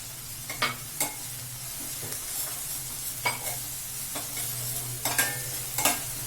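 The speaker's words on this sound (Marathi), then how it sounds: "चांगला फ्राय झालाय कांदा" Onion frying and being stirred in a pan for pithla, a continuous close sizzle broken by several sharp scrapes of the spoon against the pan, with no voices.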